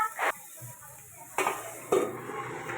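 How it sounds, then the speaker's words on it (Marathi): Okra being stir-fried in a pan, with a quiet sizzle between three distinct scraping clatters of a spatula against the pan, close by and with no talking. "व्यवस्थित परतवून घ्यायचं."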